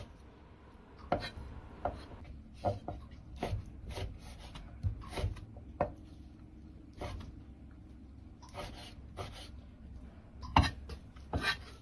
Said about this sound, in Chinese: 再切成细条